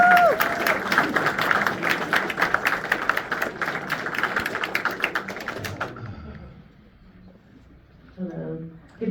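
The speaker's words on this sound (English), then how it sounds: "If you could please give her a round of applause." An audience at a recreation center's centennial celebration applauds for about six seconds, a crowd of sharp hand claps that fades out, followed by a voice starting to speak.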